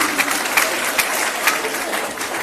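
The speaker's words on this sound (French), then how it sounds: "on peut l'applaudir parce qu'il est jusqu'au bout" Audience applause at a 2013 gathering with praise and choreography, a steady wash of clapping from a crowd with a few sharper bursts, fairly close and continuous throughout.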